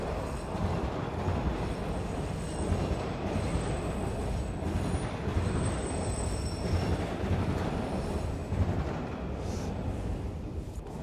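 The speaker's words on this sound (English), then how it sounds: "There's another train." A train rumbles past steadily and close by, with rail and wheel noise holding a constant loud level and faint high squeals, heard alone, no talking.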